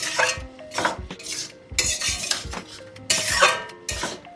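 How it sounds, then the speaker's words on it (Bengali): A spoon stirs bottle gourd and prawn curry dusted with cornflour in a pan, giving close, repeated scraping strokes with metallic clinks against the pan and a faint sizzle, no voices. "দিয়ে ভালো করে নাড়াচাড়া করা হচ্ছে"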